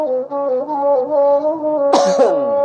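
A steady humming voice drones, then a single sharp, loud cough bursts out near the end.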